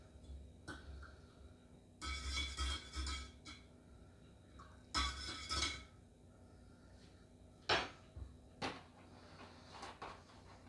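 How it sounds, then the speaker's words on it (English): Milk poured into a Thermos Guardian travel mug in a few short, faint splashing bursts separated by pauses, with soft clinks of the mug in between. "So I'm going to add my milk."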